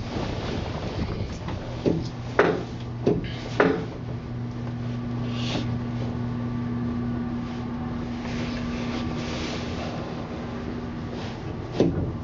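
A 1940s Curtis single-speed traction elevator descends, giving a steady low mechanical hum with a faint tone, a few clunks and knocks near the start and another near the end, heard from inside the car with no talking.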